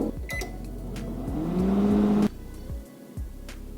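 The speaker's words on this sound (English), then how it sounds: "Melt it in the microwave." A microwave oven runs while butter melts inside, giving a steady hum with a rising tone and ending in a sharp cut-off with a few clicks.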